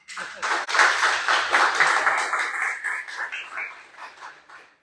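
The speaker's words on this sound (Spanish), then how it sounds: "les pido que lo recibamos con un fuerte aplauso" A modest audience at a regional museum lecture claps to welcome a speaker. The applause rises quickly, holds as a dense patter of individual claps, then gradually thins and fades.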